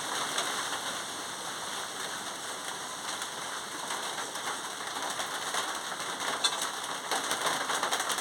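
Steady rain falling outdoors, a dense continuous hiss of drops on surfaces at moderate level, unchanging throughout with no voices.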